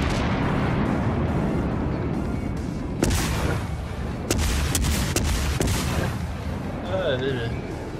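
Cannon fire in a naval battle video game, several sharp booming blasts with rumbling tails spaced over several seconds amid dense game noise and whistling effects.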